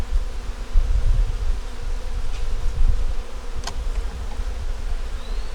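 Dense, steady buzzing of many honeybees in an open nuc hive close by, a continuous droning hum with no talking.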